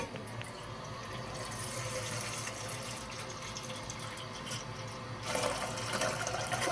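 Boiled water poured in a steady, close splashing stream that grows louder and brighter toward the end, with no talking.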